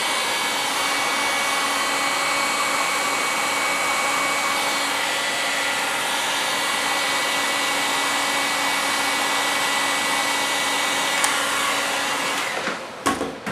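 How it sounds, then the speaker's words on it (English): A heat gun blows steadily at close range to loosen a paper scroll saw pattern, a constant loud whirring rush that holds unchanged before cutting off abruptly with a clunk. "using the heat gun, it basically just takes itself off"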